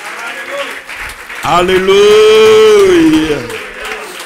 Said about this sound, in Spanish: Den un aplauso al Dios Todopoderoso